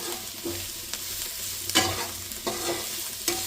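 Dry fenugreek and potatoes with spices fry softly in a pan over a low flame, with a gentle sizzle and occasional scrapes of a spoon stirring the mixture.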